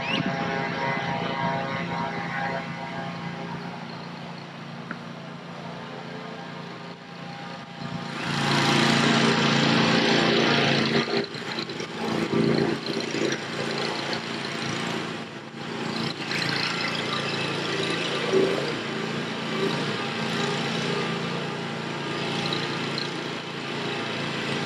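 A lawnmower mowing a field drones continuously for about 25 seconds, a steady engine hum that swells louder partway through as it passes nearer, then settles back.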